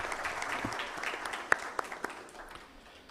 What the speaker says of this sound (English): So a round of applause for these gentlemen.